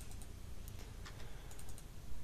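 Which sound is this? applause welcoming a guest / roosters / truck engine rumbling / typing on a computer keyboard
typing on a computer keyboard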